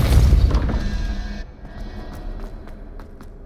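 A Depulso spell cast in the Hogwarts Legacy video game, a single heavy booming impact with a crashing thud that fades into a quieter tail of faint clicks.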